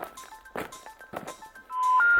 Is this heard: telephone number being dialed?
yes